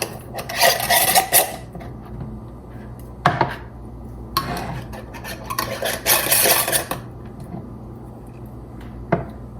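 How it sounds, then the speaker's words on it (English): Metal lids are screwed and twisted onto glass jars of herb-marinated mozzarella, giving bursts of close gritty scraping and rasping with short clinks in between and quiet pauses. "bring our lids, close those up"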